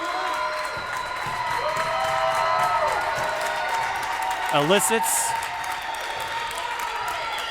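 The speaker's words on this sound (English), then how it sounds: "a thunderous applause from the spectators in attendance" Spectators applauding and cheering at a high school girls volleyball match in a gym, steady crowd clapping with a brief whoop, under a commentator's voice.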